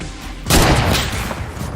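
A single loud sniper rifle shot rings out in a multiplayer shooter, a sharp blast with a short rumbling tail over faint background noise.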